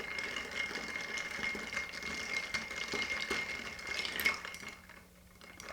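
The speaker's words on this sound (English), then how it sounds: "give it a good 20-second stir minimum" An Old Fashioned cocktail stirred with ice in a mixing glass, a continuous close rattling and clinking of ice turning against the glass, steady for several seconds before easing off near the end.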